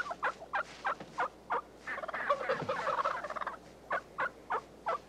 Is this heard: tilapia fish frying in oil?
no